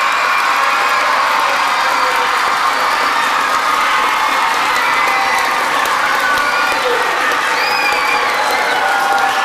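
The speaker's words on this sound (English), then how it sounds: "So can you make some noise and clap your hands for all of your teachers and volunteers who make this possible?" A large crowd of children cheers, shouts and claps at a holiday Gingerbread Express event, a loud continuous roar of voices and whoops with clapping mixed in, filling the space throughout.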